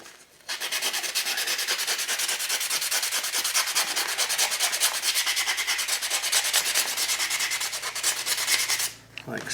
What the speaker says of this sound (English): So sand it with some 180.